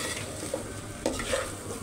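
Rice for biryani is stirred in mustard oil in a pot, a soft, close sizzle broken by a few light spoon scrapes and taps.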